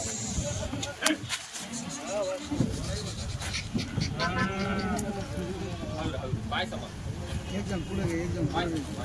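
Kathiawari goats bleat several times over a busy outdoor background, with people talking throughout.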